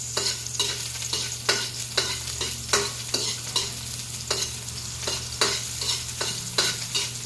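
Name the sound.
toasting corned beef with onions in a pan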